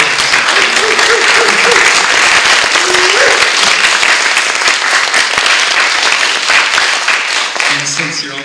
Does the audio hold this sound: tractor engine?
no